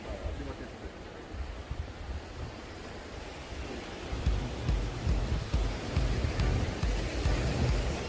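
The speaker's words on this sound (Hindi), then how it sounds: "तो इन लहरों और इन लहरों के शोर के साथ मैं फिर से चल पड़ा" Ocean waves breaking on the sea shore in Goa, a continuous broad roar of surf that grows louder halfway through, heard up close and alone.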